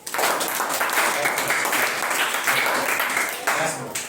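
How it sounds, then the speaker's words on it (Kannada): Students in a classroom clap together in a dense, continuous burst of applause that holds steady for a few seconds and then tapers off at the end. "ಚಪ್ಪಾಳೆ ಹೊಡೆದ್ರಿ."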